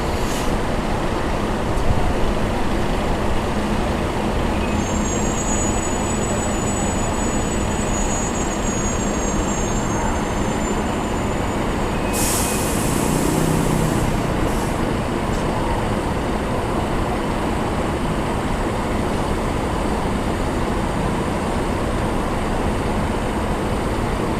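A Mercedes-Benz OH 1626 air-suspension bus with an Adi Putro body drives along, giving a loud, unbroken road and engine roar that stays even throughout, with a faint whine near the middle and no speech.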